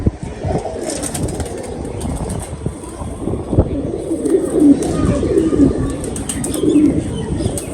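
Racing pigeons coo softly and repeatedly close by, with scattered clatter and rustling in the background.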